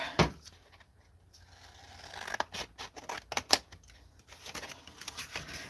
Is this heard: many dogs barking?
no